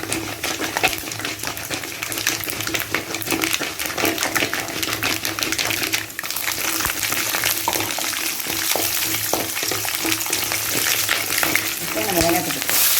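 Cashews and green chilies frying in a pan for wheat rava upma, a continuous loud sizzle with crackling pops and occasional stirring scrapes throughout.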